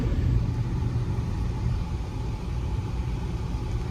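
A steady, low engine rumble from cars driving slowly in a convoy of three vehicles, one behind another, heard close and continuous throughout.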